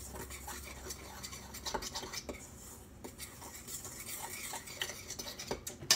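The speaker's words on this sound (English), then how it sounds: "So I'm just gonna stir those ingredients up together." Keto bread dry ingredients stirred together in a bowl, a close run of quick scraping and light clinking strokes, fairly quiet and steady with no talk.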